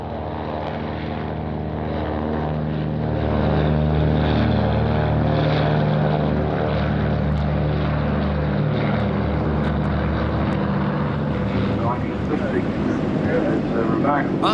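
A Catalina flying boat, a propeller aircraft, drones steadily overhead in flight at an air show, its engine tone loud and sustained and swelling slightly as it passes, while a commentator talks over it.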